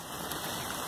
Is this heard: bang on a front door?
no